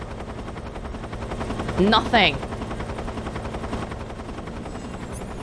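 A helicopter hovers close by in the video game Metal Gear Solid 3, its steady rotor roar running loud and unbroken throughout, with bursts of gunfire-like crackle around the middle and a voice briefly speaking over it.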